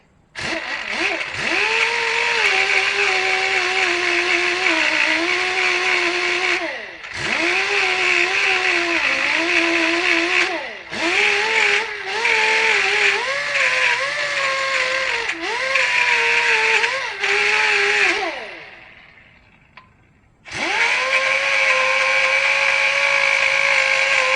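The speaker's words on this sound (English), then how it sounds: "if I need something more aggressive, I'll use a sandpaper disc" Power tool spinning a sandpaper disc against rear brake pads of an Audi A4, a loud steady whine with harmonic tones, cut by brief dips as the tool eases off, then a pause before it spins up again.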